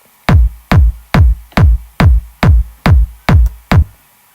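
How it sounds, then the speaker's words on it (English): Big techno kick drum in a remix drop, nine heavy punchy thumps at a steady even pulse, loud and close with a deep booming tail, played alone. "So we've got a nice big techno kick."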